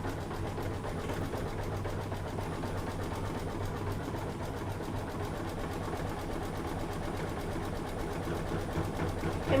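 An embroidery sewing machine stitches out a design with a steady, fast mechanical rattle and hum that runs continuously and evenly, with no voices.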